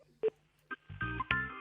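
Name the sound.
telephone number being dialed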